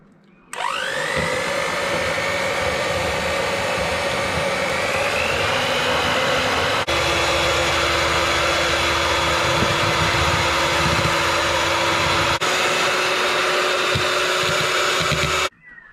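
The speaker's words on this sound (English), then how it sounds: "Now I've been whisking that away there with that double hand beater for a while" An electric double hand beater whisks egg whites for macarons, a steady high motor whine that starts up sharply and holds for about fifteen seconds, close and loud, then cuts off.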